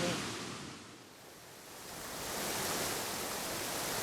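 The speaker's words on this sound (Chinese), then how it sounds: "我真的没有这么近距离的听到瀑布的声音" A waterfall heard up close gives a steady, broadband hiss of rushing and splashing water, swelling slightly midway and holding level without any voices.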